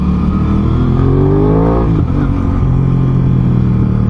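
A 2021 Aprilia RS660 middleweight sportsbike engine revs loud and close, its pitch sweeping up, dipping sharply, then settling into a steady drone over a rough rumble, with no talk.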